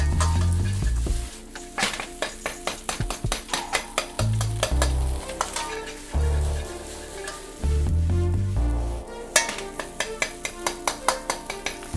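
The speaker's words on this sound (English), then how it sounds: "And then once again, mix it up." Whitebait and pickled-vegetable fried rice stir-fried in a wok, with rapid rhythmic metal scrapes and clanks of a spatula over a continuous sizzle, close and loud, with brief pauses between bursts of tossing.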